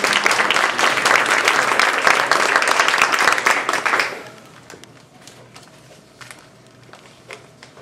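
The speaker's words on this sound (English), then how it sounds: "give all of our contestants applause one more time" Audience applause for contestants at a humorous speech contest, a loud, full burst of clapping lasting about four seconds, then dropping away to a quiet room with scattered faint taps and rustles.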